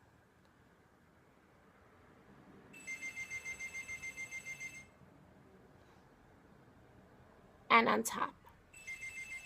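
A phone rings in two separate pulsing bursts of bright electronic tone, fairly quiet and indoors, with a short sharp noise and soft speech between them.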